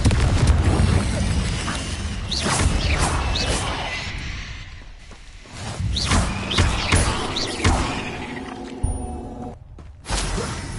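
Confringo spell blasts in Hogwarts Legacy, a string of loud booming thuds and crashes with whooshing bursts, spread over ten seconds with brief lulls between impacts.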